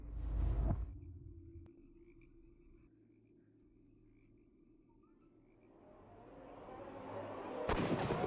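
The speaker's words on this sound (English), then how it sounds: "Good shot, Watson." In the Sherlock Holmes: Crimes and Punishments video game, one loud, close gunshot cracks at the start, then a low ambient rumble lingers and rises into another sharp burst near the end.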